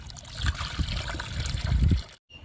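Kitchen waste liquid fertilizer is poured onto ridge gourd plants after rain, a close, continuous splashing trickle that swells then stops abruptly, with a faint tail afterward.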